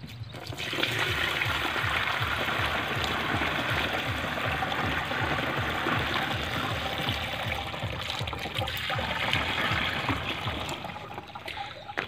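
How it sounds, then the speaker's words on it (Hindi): Water is poured from a container into the tank of an agricultural sprayer machine in a sugarcane field, a steady gushing, trickling stream that stays loud and close for about twelve seconds, with no talk over it. "मशीन की टंकी और ये थोड़ा पानी।"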